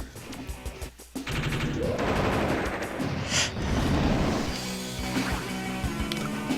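Tank strike gunfire from the Advance Wars: Dual Strike game, a loud burst of rapid, crashing shots and blasts that lasts several seconds and is followed by a few scattered impacts.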